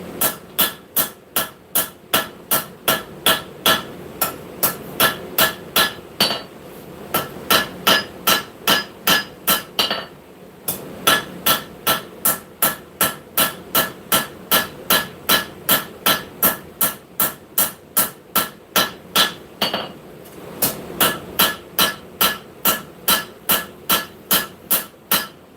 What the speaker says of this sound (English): This is more or less a lot of planishing.